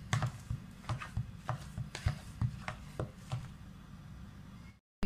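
Chicken keema cutlet stuffing being mashed and mixed by hand, a run of soft, rhythmic squelching and tapping strokes repeating close up, with no talk, ending in a brief drop to silence.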